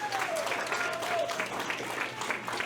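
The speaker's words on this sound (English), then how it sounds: "Everyone, please give a round of applause." An awards ceremony audience claps steadily for an upcoming presenter, a dense, even wash of applause with faint voices and a brief whistle-like tone threading underneath.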